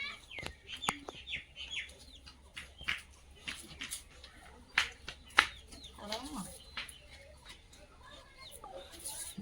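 Chickens cluck and chirp in short, scattered calls at moderate distance, some perched up high, while someone talks quietly in between.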